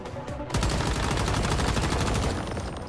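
Sustained gunfire in the survival shooter Once Human, a continuous fast rattle of loud close shots firing without pause for the whole stretch.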